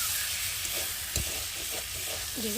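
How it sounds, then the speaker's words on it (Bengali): Eggplant and Chandramukhi potatoes with turmeric and salt being sautéed and stirred in a pan make a continuous close sizzle with soft stirring scrapes, and a faint voice-like tone rises briefly near the end. "স্বাদ অনুযায়ী নুন দিয়ে একটু ভালো করে কষিয়ে নেব"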